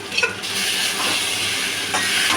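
Fried potatoes are stirred into a pan of mutton curry, with scraping spatula strokes over a constant loud sizzle and hiss, nearby and uninterrupted by talk.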